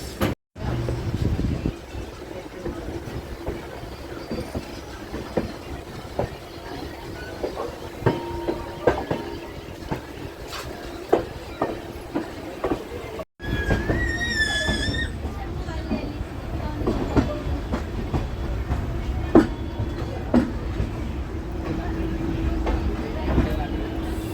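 Danapur Sahibganj Intercity Express running on rails near Kiul Junction, a steady close rumble with rhythmic clacking throughout, a brief squeal partway through, and voices talking over it.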